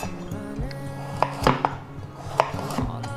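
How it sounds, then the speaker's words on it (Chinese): A kitchen knife slices through a peeled carrot on a cutting board, giving a few sharp, close chops at an uneven pace over quiet background music. "把红萝卜切片"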